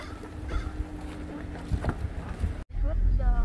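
Gusty wind buffets an open outdoor scene near water with boats, a broad steady rush that drops out briefly and returns stronger, with voices talking underneath.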